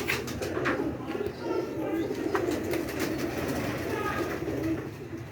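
A large Ferozpuri pigeon, kept with its mate, coos in repeated soft throaty rolls, close and steady, with a quiet voice in the background.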